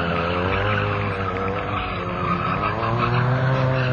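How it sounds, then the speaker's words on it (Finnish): Rear wheel of a trial motorcycle spinning and skidding in place at a European Championship trial event in Finland, a loud steady engine drone with scrubbing tire noise throughout. "Näin pyörii Kristin pyörä."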